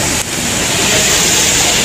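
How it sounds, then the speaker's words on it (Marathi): Small waterfall beside a temple entrance, a continuous close hiss of falling water that fills the short stretch steadily, with a faint brief voice at the start. "आता पण मिनी धबधबा आहे"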